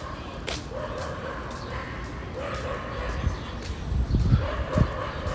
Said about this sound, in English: I hope that dog barking is not in distress, like, that doesn't sound like a happy bark.